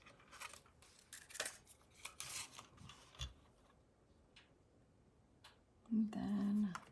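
Scissors snip through paper in a few short, quiet cuts at a craft table, the crisp clicks spaced irregularly, with brief soft rustling and a louder handling noise near the end.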